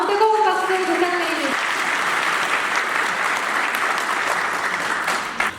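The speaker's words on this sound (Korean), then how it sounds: "정책의 흐름을 현장에서의 경험과 통찰로 잘 전달해주신 김철진 도의원님께 다시 한번 뜨거운 박수 부탁드립니다." An audience at a policy forum in Ansan breaks into loud, sustained applause. A speaker's voice carries over the first moments, then the clapping continues on its own until near the end.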